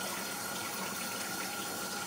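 Water runs steadily from a tap as food is rinsed under it, a constant close hiss and splash that goes on without pause and has no speech over it.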